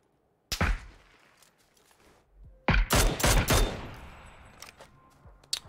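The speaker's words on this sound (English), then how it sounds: "Where is he even shooting from?" Gunfire in the PUBG video game arrives as a sharp single shot, then after a pause a rapid, loud automatic burst with echoing tails and a few later isolated shots.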